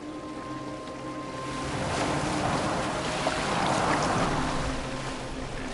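A boat moving across water in Assassin's Creed Valhalla, a steady washing swirl of waves and hull splash that swells slightly louder midway, with a low ambient hum beneath and no talking.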